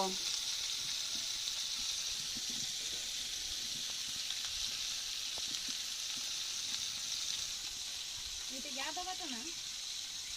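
Fish fry in a pan over a home cooking fire, a loud, continuous sizzle that runs the whole time, with a short burst of voice near the end.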